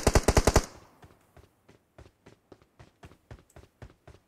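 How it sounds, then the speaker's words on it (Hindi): Gunfire in Battlegrounds Mobile India: a rapid loud burst of five close shots, followed by a longer string of fainter, evenly spaced single shots. "मैंने उस पे एक एमआर का गोली चलाया बट लगा नहीं"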